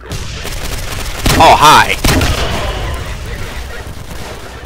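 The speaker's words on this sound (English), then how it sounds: "I like how everything is just exploding in front of me." Grenade launcher explosions and gunfire in the video game SMOD Outbreak, with dense rumbling blasts and a burst of louder impacts in the middle, a brief spoken greeting heard over the din.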